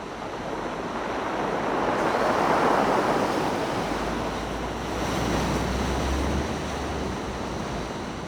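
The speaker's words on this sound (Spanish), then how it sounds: "se dirigen a la playa de Aucayama" Surf breaking on the beach at Aucayama, a steady loud wash of waves that swells and recedes, with wind rumbling against the microphone and no voices.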